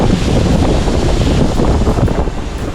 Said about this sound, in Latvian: Jā, nu šodien jūra satrakojusies.